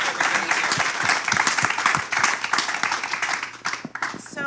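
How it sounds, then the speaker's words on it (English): Applause from a conference audience, a mix of close, distinct hand claps over a steady crowd clapping, sustained and fairly loud throughout. "Round of applause for everybody here."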